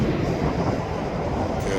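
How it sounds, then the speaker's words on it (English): Freight train hauled by two SW900 switcher locomotives, a dense, steady rumble of engines and rolling cars close by, with no break in the loud broadband roar. "So 2 SW900s pulling this train."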